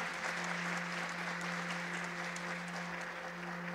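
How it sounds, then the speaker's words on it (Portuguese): A church congregation applauds during a Sunday communion service, steady dense clapping filling the whole stretch at a moderate, even level with a sustained low hum beneath. "pode aplaudir o Senhor"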